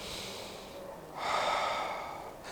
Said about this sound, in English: Quick, fast, deep breath, quick exhale while you are touching your forehead.